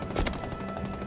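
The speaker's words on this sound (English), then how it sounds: "now I gotta shoot people" Rapid automatic gunfire from Halo multiplayer rattles in a dense, continuous burst, loud and close throughout the short moment.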